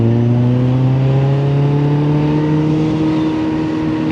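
An Audi R8 sports car passes close by on a road, its engine a loud steady drone with clear harmonics that slide slowly upward and then fade slightly as it goes by.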